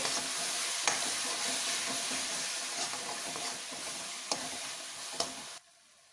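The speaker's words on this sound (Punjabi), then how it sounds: "ਹੁਣ ਟਮਾਟਰਾਂ ਨੂੰ ਵੀ ਚੰਗੀ ਤਰ੍ਹਾਂ ਪਕਾ ਲਾਂਗੇ" Tomatoes with turmeric and black pepper cook in a pan for dhaba-style dal makhni, a soft continuous sizzle with a few sharp stirring clicks before it cuts off near the end.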